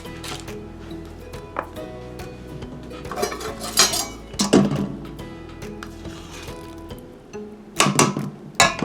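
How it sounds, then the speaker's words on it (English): A spoon scoops sour cream from a large 24-ounce tub into a bowl for an easy cheesecake, giving close, irregular scrapes, knocks and clinks against the container and bowl, with louder bursts near the end. "First of all, I'm gonna put the sour cream in the bowl."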